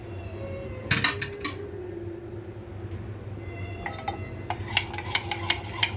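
Metal utensils clink and scrape against a frying pan in a home kitchen, with a burst of clattering near the start and a run of quick ringing taps later over a low steady hum.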